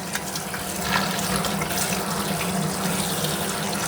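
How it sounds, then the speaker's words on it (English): Tap water runs steadily into a sink while yam and cocoa are rinsed under it, a loud close continuous splashing rush with no voices. "let's wash our yam and our cocoa"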